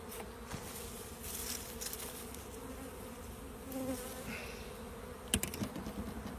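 A European hornet hums around honeybees at a hive, a steady low insect drone with small crackles and a sharp knock near the end, moderately close and alone without talk.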